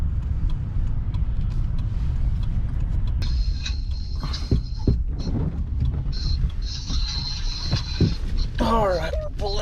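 Old Jeep driving up a Utah County road in a snowstorm, a constant low engine and road rumble filling the scene, with a voice talking over it and faint higher whines and clicks.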